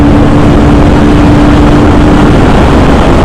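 KTM Duke 160 motorcycle engine pulling hard in sixth gear on the road, a loud steady drone with a constant low hum and heavy wind rush throughout, no voices.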